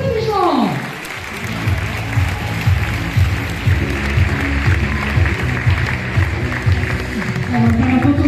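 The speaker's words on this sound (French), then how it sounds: "Vos applaudissements, s'il vous plaît, pour Erwan Petitjean." Audience at a sports awards evening at Espace Montrichard in Pont-à-Mousson breaks into sustained applause, a dense steady clapping from a hall crowd after a brief announcement.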